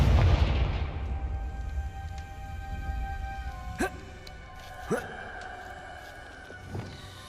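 Confringo blasting spell explosion in Hogwarts Legacy: a loud burst at the start that decays into a long rumbling tail, followed by a few fainter sweeping whooshes and pops, with a voice heard early on.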